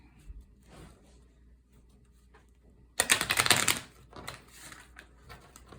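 A burst of rapid papery riffling as a tarot deck is shuffled close up, after a quiet stretch, then lighter flicking sounds trailing off.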